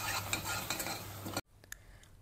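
Jaggery syrup is stirred into ghee in a pan for jackfruit ada payasam, a steady scraping, bubbling stir that stops abruptly partway, followed by faint clinks in near quiet.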